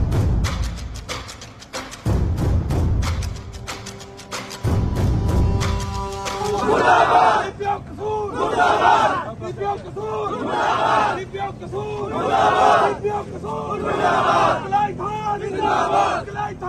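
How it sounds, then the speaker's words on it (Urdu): Lawyers at a protest rally outside a police office gate chant slogans against the police, loud rhythmic group shouts in repeated call-and-response bursts, with crowd noise and clattering at the start. "پولیس کے خلاف شدید نعرے بازی"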